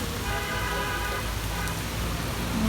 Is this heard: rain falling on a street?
yes